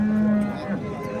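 A dairy cow at a cattle bazaar in Buvayda, Yangiqo'rg'on lets out a single drawn-out moo that fades after about half a second, with faint market noise around it.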